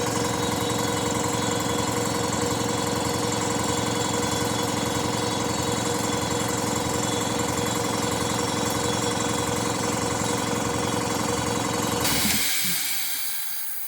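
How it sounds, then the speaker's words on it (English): A Quincy air compressor motor drones loud and steady, then cuts off as the head unloads, leaving a brief hiss and fading rumble at the end. "when it reaches the pressure that the pressure switch is set at, it'll shut down the motor and unload the head"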